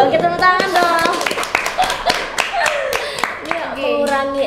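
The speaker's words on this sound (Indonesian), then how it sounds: "tepuk tangan dong." A crowd claps in a lively burst of applause, with a few voices and cheers mixed in throughout.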